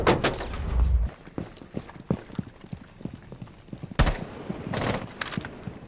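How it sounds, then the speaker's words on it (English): Gunfire in the Rainbow Six Siege video game: a loud opening burst followed by scattered sharp shots and clicks, then another strong report near the four-second mark, with mixed game sounds in between. "He just shot at my fucking head."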